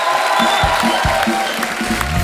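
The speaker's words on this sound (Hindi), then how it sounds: "जोरदार तालियां हार्डी के लिए" A studio audience at a Hindi comedy talk show applauds and cheers as a rock star guest walks on, giving a dense, continuous roar of clapping with dull low thumps underneath.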